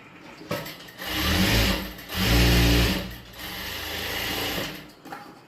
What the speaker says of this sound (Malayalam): ഇനി ഈ ചീത്ത വശത്തുനിന്ന് ഇതിൻ്റെ എൻഡിൽ കൂടി സ്റ്റിച്ച് ചെയ്തെടുക്കണം